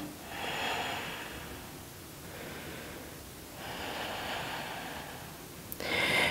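Slow, steady breathing during a vinyasa yoga flow while holding downward-facing dog, with two long, soft airy breaths close to the microphone and a brief sharper intake near the end.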